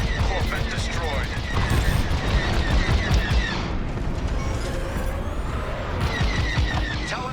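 Starfighter blaster fire in Star Wars: Squadrons, a dense, continuous barrage of rapid shots and booming impacts filling the whole stretch, with voices talking over the battle.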